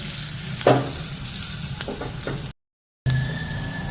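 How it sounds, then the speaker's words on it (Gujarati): Green chillies and curry leaves temper in hot oil with a pinch of asafoetida, crackling and sizzling up close as a spoon stirs and clinks against the pan, with a brief pause midway. "મરચાં સમાર્યા હું અને લીમડો એનો વઘાર કરીશું આપણે"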